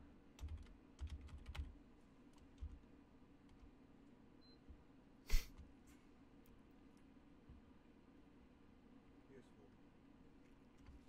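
Keystrokes on a computer keyboard during game-engine level scripting, a few quick clustered taps near the start and a sharper click mid-way, faint over low room hum.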